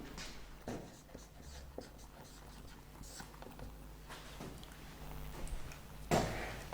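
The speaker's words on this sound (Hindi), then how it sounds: "मैं यहां पर नोट में लिख देता हूं" Pen or marker writing notes on a board or paper during a chemistry lesson: faint scratchy strokes close by, with a louder knock near the end.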